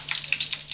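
Curry leaves drop into hot coconut oil for a tempering, giving a short, close sizzle and crackle with bright hiss that rises and falls unevenly.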